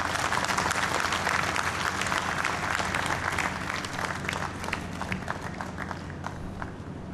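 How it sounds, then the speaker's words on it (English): A seminar audience gives a guest a hearty round of applause, a steady roar of many clapping hands that stays strong before thinning slightly toward the end. "please stand up and give him a huge round of applause for his presence here"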